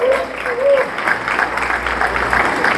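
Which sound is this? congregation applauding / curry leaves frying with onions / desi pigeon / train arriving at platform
congregation applauding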